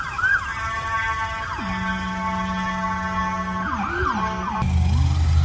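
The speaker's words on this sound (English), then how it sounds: "Had to wait for an ambulance to go by." An ambulance siren wails and yelps nearby, sweeping up and down before fading as it passes, over a low hum of traffic.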